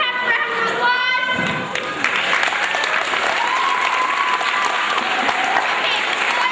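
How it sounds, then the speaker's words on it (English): Audience applause fills a theater after a children's stage production of Charlie and the Chocolate Factory, steady and loud throughout, with a few cheers and children's voices rising over the clapping. "Can we have a round of applause?"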